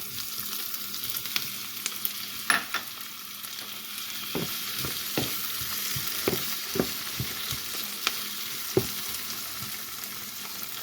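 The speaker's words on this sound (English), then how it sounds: "Just gonna caramelize these right quick before I add the tomato. And add my tomatoes in now." Tomatoes fry in a sauce pot, a steady sizzle with intermittent stirring knocks and scrapes throughout, close and moderately loud, with no voices.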